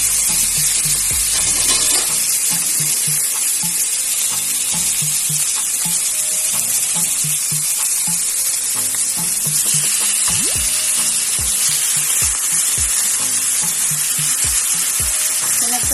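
Small cut chicken pieces sizzle and fry loudly in a pan for chicken gisado, a steady crackling hiss with occasional stirring knocks and clatter throughout, no talking.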